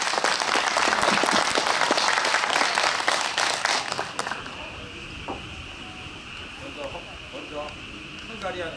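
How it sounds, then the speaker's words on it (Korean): Applause from an outdoor concert audience for three dancers, dense and steady clapping for about four seconds before fading into quieter background noise and scattered sounds. "자 그럼 요 세 분을 위해서 우리 박수 한번 보내주세요."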